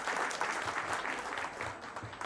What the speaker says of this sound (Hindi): तो सबसे पहले तो आप सब लोग अपने लिए तालियां बजाएं।